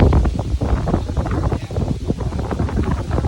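Gusty wind buffeting a microphone outdoors in a summer garden with caged raspberries and grapevines, a steady low roar rising and falling in loudness throughout, with no talking.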